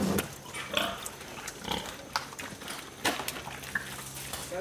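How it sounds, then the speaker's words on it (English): Pigs on a farm grunting and snuffling as they eat feed mixed with fruit and sweet potatoes, several close, irregular grunts over a steady background. "Happy pigs."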